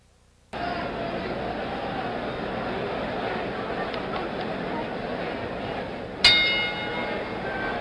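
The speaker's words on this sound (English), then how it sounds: "The bell for round 4." A single bright boxing round bell clang rings out once, starting round 4, over a steady roar of crowd noise at the 1977 George Foreman vs Jimmy Young fight.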